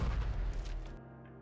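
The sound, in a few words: massive explosion in video game Goddess of Victory: Nikke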